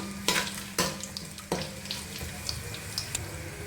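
Whole spices — cumin, black pepper and small cardamom — frying in oil, a soft continuous sizzle broken by a few sharp stirring clatters from a nearby pan.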